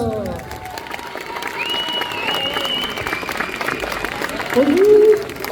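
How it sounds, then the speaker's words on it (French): A convention crowd applauds steadily throughout as an actress is introduced, while music and a voice carry over the clapping, which swells near the end. "Mesdames et messieurs, sous vos applaudissements, Georgia Hirst."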